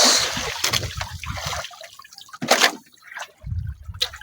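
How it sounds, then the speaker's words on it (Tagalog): Strong river current after heavy rain rushes and splashes nearby in uneven surges, with bursts of louder gushing water between quieter moments. "lakas pa ng agos"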